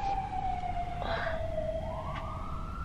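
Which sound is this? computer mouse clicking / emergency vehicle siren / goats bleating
emergency vehicle siren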